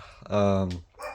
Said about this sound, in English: Excuse my stupid dogs. You can probably hear them barking the whole video.